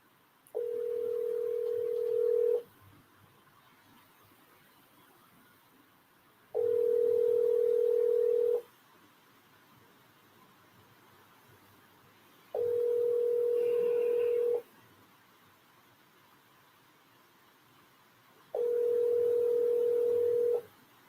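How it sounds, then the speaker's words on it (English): An outgoing telephone call ringing on the line: a steady ringback tone sounds four times, each lasting about two seconds, with roughly four-second silent gaps between them, over faint background hiss. "we're trying to get him on the line. It's ringing."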